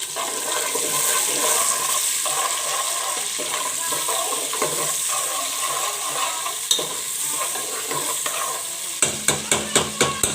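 A large onion fries in hot oil for matar pulao, giving a steady close sizzle with a few stirring scrapes and a short run of sharp rhythmic taps near the end.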